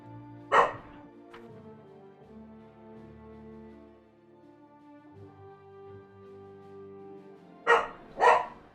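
A dog barks excitedly indoors in two bursts, one near the start and a quick double bark near the end, loud against quiet game music and background sounds.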